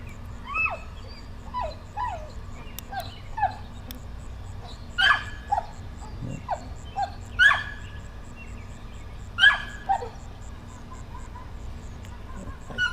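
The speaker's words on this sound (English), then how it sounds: "And happy dogs." Several dogs bark and yelp in short, scattered bursts, fairly close, against a steady low outdoor hum, with no talking.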